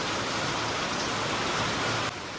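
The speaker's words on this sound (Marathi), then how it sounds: "जोरदार पाऊस आहे" Heavy rain pours down steadily as a dense, even hiss of water with no pauses, loud and close.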